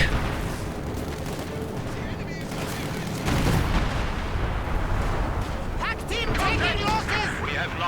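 Rockets from a Panzerwerfer barrage in a World War II real-time strategy match slam into the battlefield as dense, continuous rumbling booms that swell louder halfway through, while battle noise and voices chatter on top.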